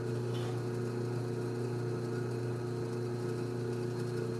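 Drill press running steadily in a home workshop during a custom knife build, a continuous close motor hum with no changes and no voices.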